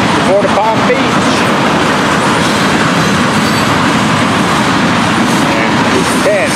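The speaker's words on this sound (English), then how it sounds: "The ground as they rumble past. Hey, what a train this morning!" An FEC freight train rumbles past close by, a loud, continuous roar of rolling wagons with clickety-clack rhythm and occasional wheel squeal throughout.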